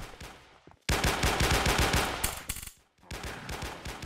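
Rapid automatic gunfire in a Roblox zombie shooter game, loud bursts of rattling shots that stop briefly, then resume after a short silent gap.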